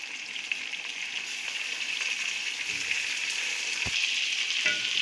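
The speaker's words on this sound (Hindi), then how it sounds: "ये इसको मैंने 5 मिनट के लिए फ्राई किया इसके अंदर चिकन को" About a kilo of chicken frying in a pan, a steady, close hiss and crackle that builds slightly, with an occasional stir or clink.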